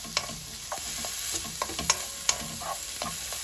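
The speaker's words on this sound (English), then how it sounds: "the chilies, give them a little stir." Chilies stir-fried in a pan over medium heat on a large ring, with a steady sizzle and sharp scrapes and taps of stirring scattered throughout, close and moderately loud.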